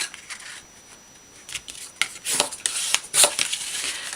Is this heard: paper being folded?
yes